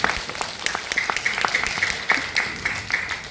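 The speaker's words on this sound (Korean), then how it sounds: "박수 한번 부탁드리겠습니다." Scattered audience clapping at a university talk concert with a company executive, individual claps from a modest crowd sounding in an uneven, sparse rhythm.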